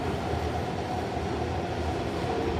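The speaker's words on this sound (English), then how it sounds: "We can get a good video of the train going out." A Silver Line metro train rumbles along continuously from inside a car, with steady low roar and faint rattling of wheels on track.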